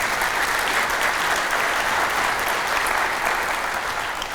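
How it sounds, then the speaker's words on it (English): An audience at a Columbia County community event applauds in welcome of Colonel Evans, with steady, dense clapping that holds at an even, fairly loud level from start to finish with no talk. "Can we give him a round of applause?"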